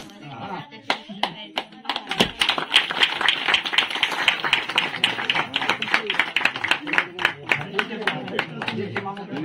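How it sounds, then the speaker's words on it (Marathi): Rapid, uneven group hand clapping fills a betel-nut (supari) engagement ceremony at close range, with murmured voices beneath throughout. "सगळ्यांनी टाळ्या वाजवायच्या."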